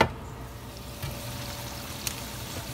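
Bicol Express, a Filipino pork and coconut milk dish, simmers and sizzles steadily in a pan, with a soft continuous bubbling hiss throughout and a brief clink partway through.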